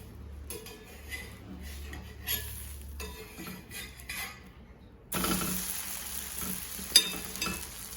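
A dosa turned over on a griddle: quiet scraping and clinks from the spatula, then a sudden louder sizzle that continues once it lands, with a sharp metallic tap near the end.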